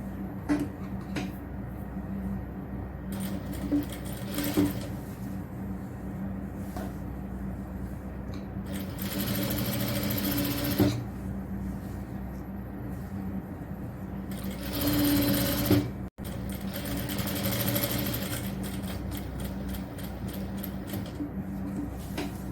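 An electric sewing machine stitches a triple-frill XL nighty in two colours, its motor running in steady bursts with short pauses and shifts in speed, close and clear with no talk.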